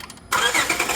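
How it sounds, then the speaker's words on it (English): A car engine cranks and catches after a quiet moment, then settles into a loud, steady close idle. "So we're going to start the car here"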